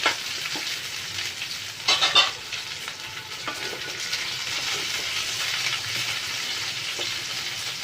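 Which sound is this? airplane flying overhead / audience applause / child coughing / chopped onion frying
chopped onion frying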